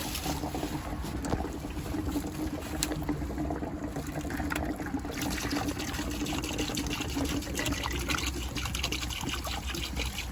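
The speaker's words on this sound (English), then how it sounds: "That water is flowing back from the heat exchanger into the bucket." Water from a hose flowing back from a Navien NPE tankless water heater's heat exchanger into a bucket during descaling, a steady close splashing trickle that runs unbroken throughout.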